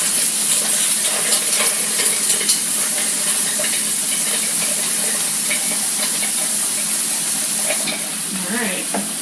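Water pours into a cup of ice to make an ice bath for hard-boiled eggs, a steady close rushing splash lasting about nine seconds with no talk.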